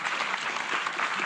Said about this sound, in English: A big round of applause for the panelists.